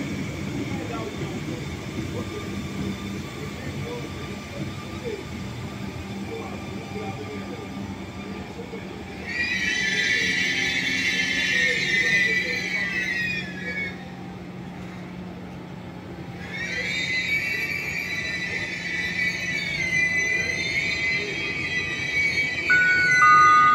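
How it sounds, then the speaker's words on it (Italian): A train rumbles low and steady through the platforms at Treviglio railway station in Italy, as public-address announcements in Italian play over it. "Attenzione! Treno in transito al binario 6."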